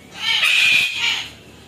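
A sulphur-crested cockatoo lets out a single harsh, raspy screech lasting about a second, loud and close at a bird park, with no talk over it.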